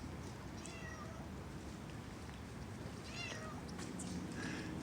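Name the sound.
cats meowing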